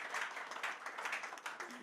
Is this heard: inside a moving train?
no